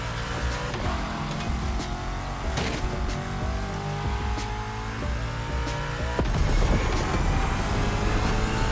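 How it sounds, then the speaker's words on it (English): A Porsche 911 GT3 Cup race car in The Crew Motorfest roars around a racetrack with a loud, sustained engine note. Tires squeal and gear shifts pop throughout, and the engine surges louder near the end. "We've got our hands on the GT3 Cup, a model designed with track racing in mind."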